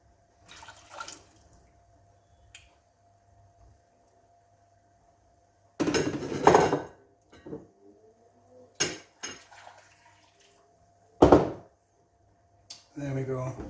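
Water sloshes and splashes as a bowl is rinsed out in a kitchen, in a few short bursts with quiet gaps and clinks of dishware between.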